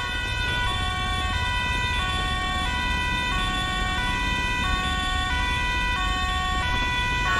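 An ambulance siren in the video game GTA 5 wails loud and close in a steady two-tone alternating pattern, with an engine rumble underneath and no voices.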